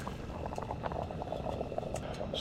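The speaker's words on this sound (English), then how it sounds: "now it's boiling, so I'm going to turn the heat to very low" Rice and mussels boil in a camping pot, a steady close bubbling and popping that runs continuously at a low level.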